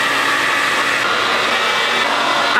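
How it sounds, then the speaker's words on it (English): Hair dryer blowing steadily into a shirt sleeve, a loud continuous whooshing hiss with no pauses, close by throughout. "then we're gonna go ahead and get our hair dryer, put this guy in the sleeve"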